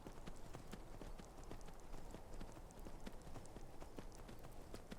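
Horse hooves clip-clopping at a quick, steady pace while riding in the video game Skyrim, an even run of hoof beats that carries on throughout at moderate loudness, with no talk.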